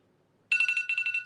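A phone alarm rings out suddenly, sounding two quick bursts of pulsing electronic chimes, clear and fairly close, with no voices.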